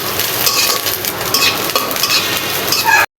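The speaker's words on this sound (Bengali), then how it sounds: "এখন আমি কেটে রাখা পেঁয়াজ, মরিচ, রসুনগুলো ভেজে নিব।" Chopped onion, chili and garlic sizzle loudly in hot oil, with a steady bright crackle and the scrape and clink of a utensil stirring the pan, close up, cutting off abruptly at the end.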